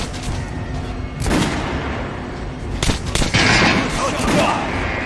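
Gunshots boom and crack at a training dummy in the video game Metro Last Light Redux, a few loud, spaced reports with ringing tails over a rumbling background.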